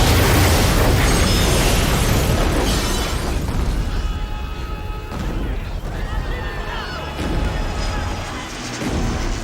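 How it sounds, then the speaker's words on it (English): Film special-effects explosion of a nuclear test facility on a James Bond set, a loud, sustained rumbling blast with crashing debris that slowly tails off without fading to silence. "In the distance, we see the nuclear test facility exploding."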